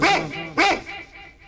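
A man mimics a small dog with two quick, nasal, close-up yaps about half a second apart, the second trailing off into quiet.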